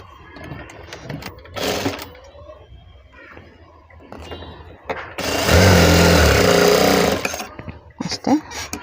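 A sewing machine runs a burst of stitching over double-folded cloth, a loud rapid whir lasting about two seconds amid quieter handling clicks and rustles, with brief fabric noises before and after.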